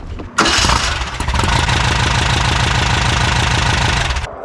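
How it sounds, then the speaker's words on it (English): A rebuilt Volkswagen Baja Bug engine cranks and catches, then settles into a loud, close, rhythmic idle with a steady chugging pulse that runs on for several seconds before cutting off. "This is the engine from Nathan's Baja Bug that he rebuilt"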